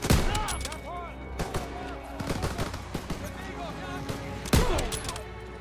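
Automatic rifle fire in the Call of Duty WWII video game: bursts of sharp shots crack in quick succession over a steady battle din, with a heavier blast near the end.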